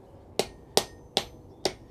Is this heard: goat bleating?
no